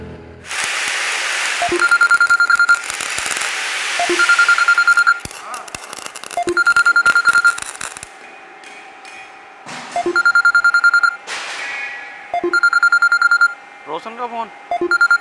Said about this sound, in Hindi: हाँ मैं उसे फोन करता हूँ